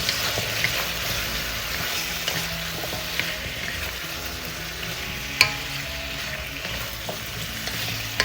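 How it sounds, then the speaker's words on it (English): Crab, squash and long beans being stirred in a pan over medium-high heat for ginataang alimasag, a constant frying sizzle with scattered clinks and scrapes of the utensil, no voices. "We're gonna stir."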